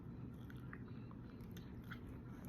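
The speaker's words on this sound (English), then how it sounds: "It's still kind of hard to chew." Someone wearing braces chews tender food at the back of the mouth. The soft biting and squishing chews are close and faint, with a few wet crunchy clicks and no talking.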